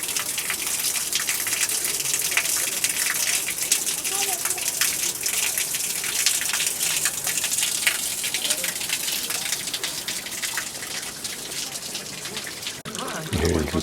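Water gushes and trickles steadily through narrow carved stone channels feeding a series of Inca purification baths at Machu Picchu, a continuous close splashing flow that holds the whole time, with faint voices of people in the background.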